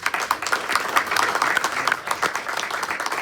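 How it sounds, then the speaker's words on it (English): An audience at a sailing coach's talk to coaching staff gives a round of applause, a moderate, fairly dense patter of clapping that stays even and then begins to thin. "Let's give her another round of applause"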